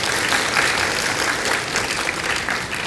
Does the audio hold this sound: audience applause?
yes